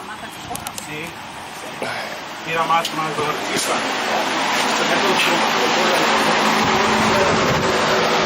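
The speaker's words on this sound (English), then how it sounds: "It is running, but it needs to run better." A Volkswagen engine runs on a test stand, which is running but not smoothly, as a steady broadband roar that builds after a few seconds and holds loud and close, with brief talk and clatter early on.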